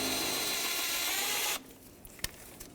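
A power ratchet or small tool driving out a 10mm bolt from the alternator bracket on a 2012-2017 Toyota Camry 2.5L, a loud steady whirr for about a second and a half, then quiet with a few faint metallic clicks.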